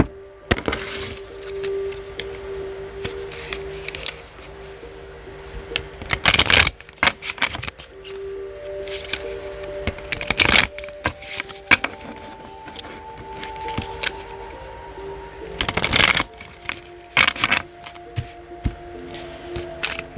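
Tarot cards shuffled by hand in a series of loud riffling bursts, with quieter handling and sliding of the deck between them, close up and with no talking.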